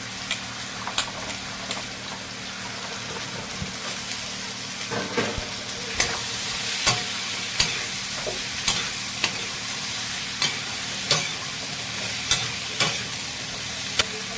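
Pointed gourd is stir-fried in tomato masala, giving a continuous close sizzle broken by regular scraping knocks of a spoon against the pan.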